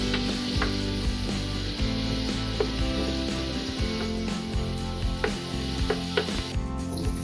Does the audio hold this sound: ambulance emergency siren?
no